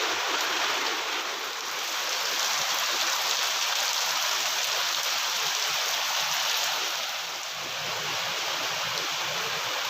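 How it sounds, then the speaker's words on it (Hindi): Steady heavy rain pouring down in a village, a dense unbroken hiss of drops close by that holds loud and even throughout, with no voices. "आज वर्षा होचे"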